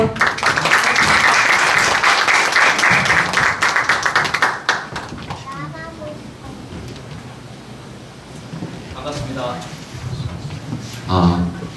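Loud, dense applause from the crowd at a book launch welcomes a chapter president to the podium, sustained for several seconds before fading, then a voice begins speaking over the quieter room.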